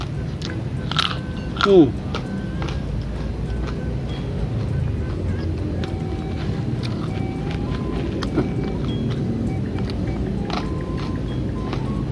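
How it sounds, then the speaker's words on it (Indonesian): Crunchy bites into jengkol come close and clear over a constant background hum, a few sharp crunches followed by steady chewing. "Jengkol kalau digigit tuh enak ya, kriuk loh."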